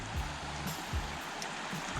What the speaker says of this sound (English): But look, there's like a creek,